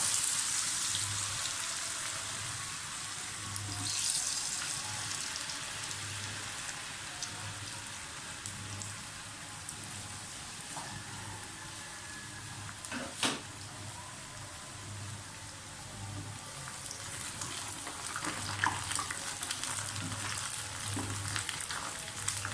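Potato french fries frying in hot oil in a preheated pan, a steady rain-like crackle and sizzle that runs on with no gaps, close by and fairly soft, with a low hum underneath.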